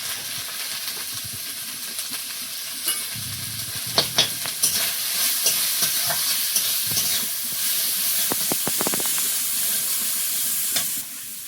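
Spice masala with green chillies, salt and turmeric being stirred and fried in a pan, a steady close sizzle and hiss with scraping clatter from the spoon, louder stirring bursts toward the end.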